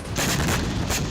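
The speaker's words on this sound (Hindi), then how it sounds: "रूस की वायुसेना ने हेलीकॉप्टर से गोलीबारी करके कई ड्रोन नाकाम कर दिए" A Russian helicopter fires on Ukrainian sea drones sent against a Sevastopol shipyard, giving two loud, close bursts of gunfire that fill the moment, with no voices.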